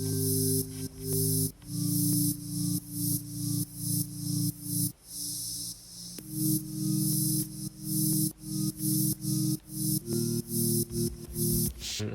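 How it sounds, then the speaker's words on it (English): A white noise synth pad for future bass production, a dense hissing airy wash that pulses in a rhythmic pumping pattern over sustained chord tones that shift every couple of seconds, playing alone without talk. "So next up we have this white noise pad, which is quite an interesting sound actually"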